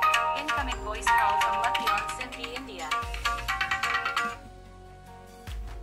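A smartphone rings with an incoming call from a second phone, playing a bright melodic ringtone with repeating phrases that loop about every two and a half seconds, loud and close.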